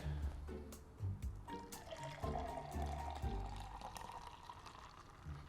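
Homemade cucumber juice with basil is poured in a kitchen, a soft, close liquid splashing and gurgling with uneven bursts, fairly quiet overall.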